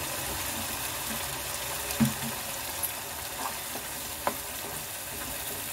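Paneer curry fries in a pan with a soft continuous sizzle while a spoon stirs it, adding a few scattered scraping clinks and knocks against the pan.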